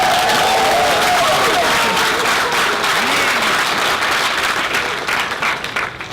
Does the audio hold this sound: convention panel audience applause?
yes